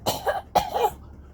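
A pair of short, raspy coughs in close succession, each a sharp burst ending in a brief voiced rasp, heard near and alone with quiet afterward.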